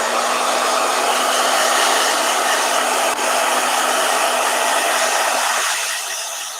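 Blow dryer running steadily, a loud, close, continuous whooshing hum that holds constant for several seconds before easing slightly at the end.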